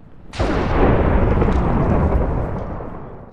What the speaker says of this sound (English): That is thunder.